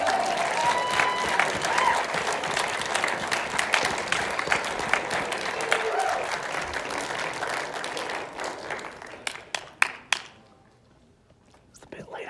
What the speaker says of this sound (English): It's a bit late on the claps.